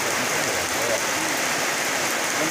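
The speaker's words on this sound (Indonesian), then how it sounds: "Karena hujan sangat deras sekali" Heavy rain pours steadily at a cliff edge, a dense, constant hiss of water drumming on surfaces with no breaks throughout.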